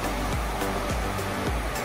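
Rain-swollen water rushes loudly near Pune, a steady close roar of churning flow with low thumps pulsing through it.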